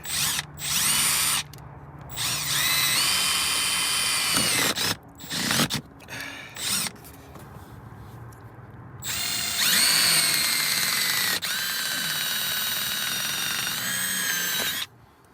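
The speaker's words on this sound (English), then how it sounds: "Drilling into my Rolls Royce" A power drill whirs in several bursts into Rolls-Royce seat trim, stopping and starting with short pauses, loud and close, the motor pitch steady under load.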